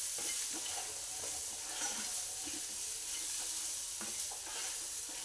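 Chili powder fries in a pan with sweet corn masala, a dense steady sizzle broken by the light scrapes and clinks of stirring, close and continuous without any speech.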